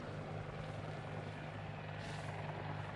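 A helicopter in the military game Arma Reforger thunders close overhead, a loud, steady rotor drone with a low throbbing hum that swells slightly near the end.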